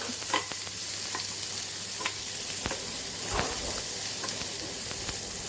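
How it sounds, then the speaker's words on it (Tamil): Chopped onions sizzle steadily in a hot pan for masala puri, with occasional scraping and stirring sounds over a constant frying hiss. "கட் பண்ணி வச்சுருக்க வெங்காயம் சேர்த்து நல்லா வதக்கிக்கிடுவோம்"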